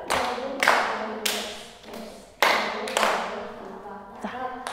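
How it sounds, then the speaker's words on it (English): Partners clapping each other's hands in an online play course, a few sharp, separate claps spaced about a second apart, each ringing briefly in the room. "you're going to clap hands of the person in front of you"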